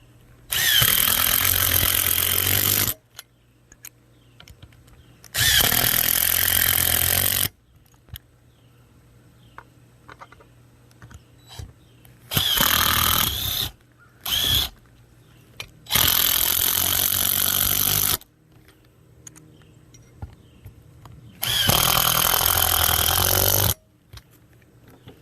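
An impact driver sinking bolts into a roof while relocating a satellite dish mount, loud bursts of rapid hammering whir lasting a few seconds each, with quiet pauses and brief short pulses between them.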